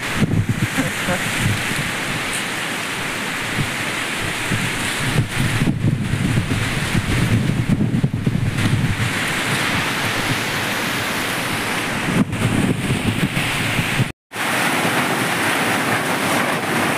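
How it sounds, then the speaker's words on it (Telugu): A wind, dust and rain storm sweeping through a village, loud continuous roaring rush of wind and rain battering the microphone close by, with brief gusty dips and one sudden cut near the end. "గాలి దుమ్ము వర్షం ఒకేసారి స్టార్ట్ అయిందనమాట మా ఊర్లో"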